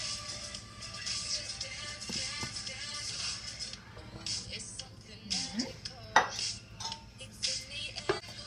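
Playdough ingredients such as flour and salt go into a pan and are stirred, giving faint clinks, scrapes and taps of utensil against pan that grow busier midway, with no speech.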